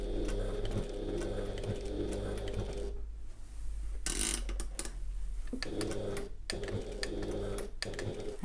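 Sewing machine stitching a handbag, a fast close mechanical whirring with ticking needle strokes in two bursts, broken by a brief pause and a clunk of the presser foot being lowered, no talk.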